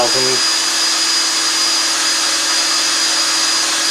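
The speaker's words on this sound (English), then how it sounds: "So I can take some nice, really fine sandpaper." A Lego-built lathe spins a cue shaft being sanded with fine sandpaper, a loud steady whirring hum that runs continuously after a brief uneven start.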